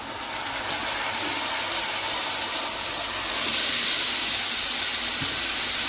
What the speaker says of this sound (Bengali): এখন এই ম্যারিনেট করা মাংসটা আমি দিয়ে দেবো এর মধ্যে।